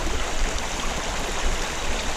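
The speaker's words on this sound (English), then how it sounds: "Crossing the water wasn't too bad. Even with my bike fully loaded," Stream water rushing and babbling steadily during a crossing with a fully loaded bike, a continuous close, broadband wash with no voices.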